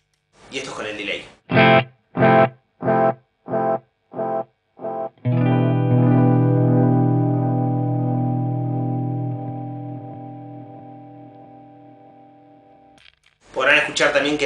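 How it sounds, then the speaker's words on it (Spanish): Electric guitar through a delay pedal: a run of six clipped, distorted plucks, then a sustained chord whose echoes trail away over several seconds before a final strum, played alone. "Y esto es con el delay."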